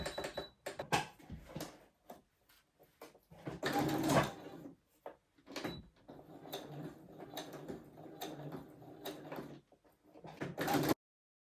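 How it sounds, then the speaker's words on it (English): A domestic sewing machine stitches a sleeve hem on a gingham dress in bursts of rapid mechanical whirring, separated by pauses and small clicks from handling the fabric, close up with no talking. "sew the hem in place of my other sleeve, so I'm just going to do that now"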